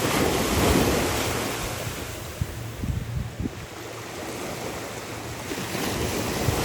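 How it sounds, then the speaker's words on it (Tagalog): Broad roar of strong surf breaking and washing in on Boracay during a low-pressure weather warning, loud and continuous, with gusty wind buffeting the microphone. "Lakas ng alon."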